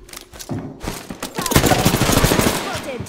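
Close automatic weapon fire in Apex Legends, a few scattered shots at first, then a fast continuous burst of loud cracks rattling on to the end.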